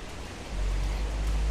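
Steady rain falls on a city street in China, a broad, even hiss that swells louder partway through with a low rumble underneath, no voices present.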